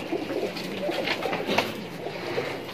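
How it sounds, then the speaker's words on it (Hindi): Soft, continuous cooing from several large desi pigeons in Moradabad, India, low murmuring coos overlapping steadily at moderate distance with a faint background hiss. "देसी कबूतर है ये, देख सकते ये मुरादाबाद का देसी कबूतर है"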